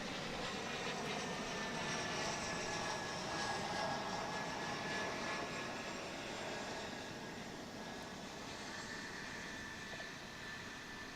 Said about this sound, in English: here's another CRJ, huh? It's coming in from Brownsville in South Texas.